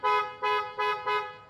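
A Hella brand horn fitted to the front of a 2025 Tata Curvv gives four short, loud honks in an even rhythm, close by and with no voices.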